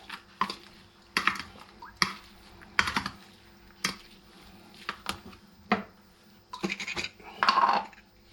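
A spoon stirs and scrapes through a chopped Antep spoon salad with mint in a bowl, giving about a dozen separate faint clinks and scrapes at an uneven pace, close and quiet.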